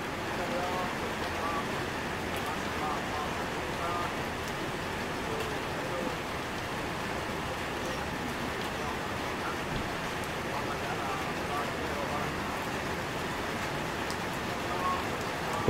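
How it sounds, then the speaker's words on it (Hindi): Heavy rain falls steadily in the Kumra area of Jeddah, Saudi Arabia, a dense continuous hiss of drops on surfaces, even and sustained throughout with no voices. "रेनिंग इन कुमरा कुमरा में बारिश हो रही है"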